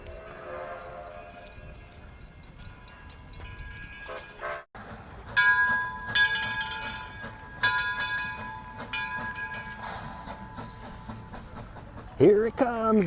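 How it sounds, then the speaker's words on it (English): An old-timey train passes close by near the Henry Ford Museum in Detroit, with rolling rumble, clanking, and bright whistle or horn tones rising and falling, plus brief voices. "Here it comes, the old-timey train."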